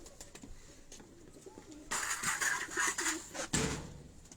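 Pigeons on a rooftop in Abbottabad coo repeatedly, with soft murmurs at first followed by louder, fuller bursts of cooing close by, with no talk over them.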